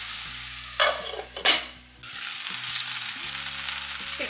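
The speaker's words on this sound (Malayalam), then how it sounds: "എന്നിട്ട് വീണ്ടും ഇളക്കി കൊടുക്കാം." Egg and spring onion stalk thoran stir-fried in a pan, with a steady close sizzle, two brief scraping stirs near the start, then a louder continuous frying hiss.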